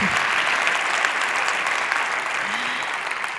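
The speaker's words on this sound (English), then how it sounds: "Let's give all of them one last round of applause." Steady, dense applause from a TEDxMileHigh conference audience fills the hall, even and sustained throughout without pause or distinct voices.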